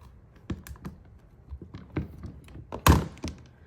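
Several rubber stamps pressed onto colored and white cardstock, giving soft, irregular taps and thunks with one firmer thump near the end, close and alone.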